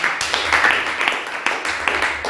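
A church congregation claps for Jesus, a dense run of hand claps sustained for a couple of seconds, with voices mixed in among them.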